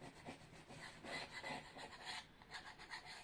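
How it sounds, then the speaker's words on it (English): A palette knife scraping acrylic paint back and forth on a canvas gives a soft, close rasping rub in repeated uneven strokes, faint and without talk. "I'm just scraping back and forth with my palette knife."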